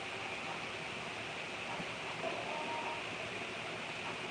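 A New York City subway 4 train giving a steady loud rumble and hiss inside the moving car, continuous broadband noise with a faint squeal partway through.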